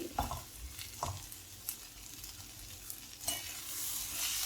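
Onions with curry leaves and tamarind sauté in a pan for an onion chutney, a soft steady sizzle with a few close spoon scrapes and taps against the pan, and the frying swelling slightly toward the end.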